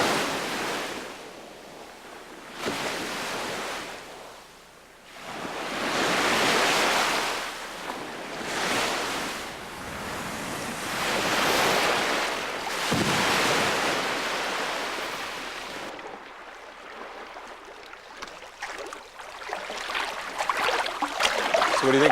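Ocean surf rolls and crashes in repeated broad surges along the Baja coast during a sea kayaking outing, each wave swelling loud then easing, with wind rushing over the microphone and no voices.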